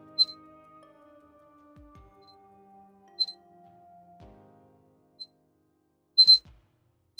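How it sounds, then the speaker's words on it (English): An alarm clock goes off with short, sharp electronic beeps spaced a few seconds apart over a faint background hum, fairly quiet and heard alone without speech. "All right, that is the alarm."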